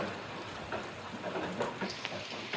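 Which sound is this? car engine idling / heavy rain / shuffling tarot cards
heavy rain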